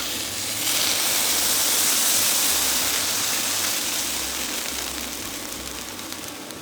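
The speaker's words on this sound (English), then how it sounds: "Next, add in the liquid from the can." Liquid from a can of abalone is poured into a cooking pot, giving a loud, continuous splashing gush that swells early and then slowly tapers off, with no talking.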